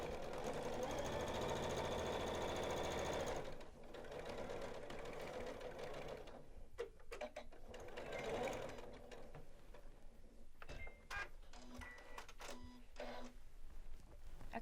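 A Janome sewing machine runs a fast, steady stitching whir for a few seconds while finishing dress seam edges, then stops, followed by quieter mechanical clicks and short handling sounds, with no talk.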